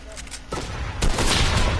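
Video game gunfire, a rapid burst of close shots swelling louder partway through, dense and crackling, with a voice talking over it.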